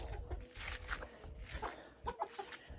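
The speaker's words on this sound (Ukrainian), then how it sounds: "буде тут сидіти одна квочка і друга з курчатами" Broody hens with chicks clucking softly and intermittently, close and faint, with a few short low calls in a quiet farmyard.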